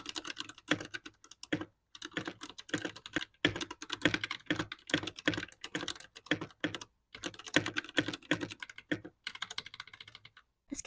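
Typing on a mechanical keyboard fitted with milky yellow switches, heard as rapid, close, crisp clacky keystrokes in irregular bursts with short pauses, alone without talk.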